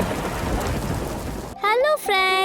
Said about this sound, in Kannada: ಮಳೆ ಹನಿ ಬೀಳ್ತಿದೆ ಟಪ ಟಪ